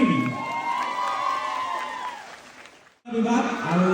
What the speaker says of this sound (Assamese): সকলোৱে বাবে হাত চাপৰি